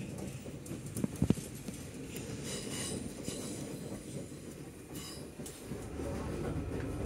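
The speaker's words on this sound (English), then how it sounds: "There goes the trains to Windsor and Reading." A South Western Railway train rumbles past a London station steadily with clattering wheel noise and a few sharp knocks, a continuous broad roar from nearby.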